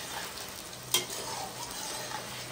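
Jackfruit pieces fry in a pan with a steady, moderately quiet sizzle and a single sharp stirring scrape near the start.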